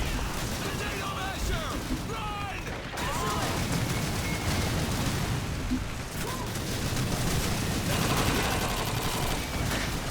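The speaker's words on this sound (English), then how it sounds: "Check out this machine gunner." Machine gun fire and other gunfire rattle continuously in a Call of Duty 2 battle at Pointe du Hoc, dense bursts and booms layered loudly throughout, with a voice occasionally speaking over the combat.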